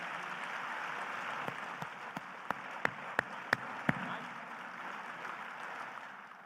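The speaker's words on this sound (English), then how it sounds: "Can you give them a round of applause, please?" Audience applause fills a hall during a mayor's State of the City address, steady broad clapping with a few sharper individual claps standing out near the middle before it tapers.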